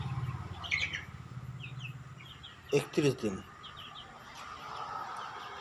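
Young Kadaknath-type black chickens, 31 days old, give scattered high chirps and peeps at a farm, while a person talks over them and a brief clatter sounds midway.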